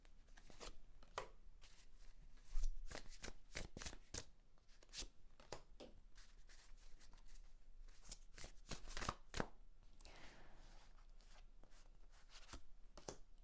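Tarot cards are shuffled close up in quiet surroundings, giving irregular sharp riffling snaps and soft slaps spread over the stretch, with no talking.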